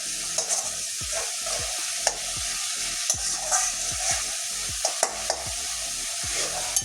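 Spice paste for doi potol sizzles in oil in a pan while a spoon stirs it, steady frying hiss with repeated scraping and knocking strokes, close and fairly quiet.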